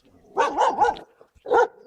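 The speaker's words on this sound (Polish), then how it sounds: "Cicho pies!" Dogs bark in a village, a quick burst of three close, loud barks, a short pause, then a single bark.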